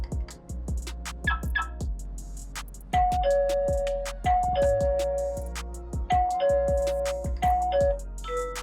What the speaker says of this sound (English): When the seal between them is broken, then it will give off an alert.